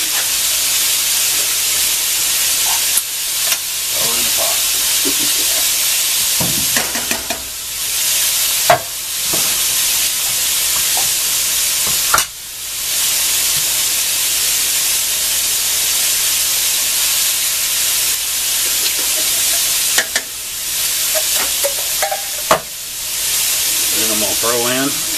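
Sausage fries in a pan with a constant bright sizzling hiss, broken by occasional clacks and stirring scrapes of a utensil, close and loud throughout without talking.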